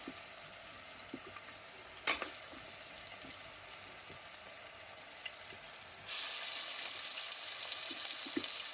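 Mutton dropped into a hot pan, a soft clatter followed by a loud, steady sizzle of frying meat that continues strongly, with no speech.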